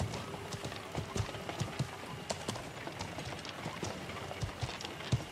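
Hooves clip-clop in an uneven rhythm as a horse is ridden in the game Feudal MMO, the close thuds repeating over several seconds against a noisy background.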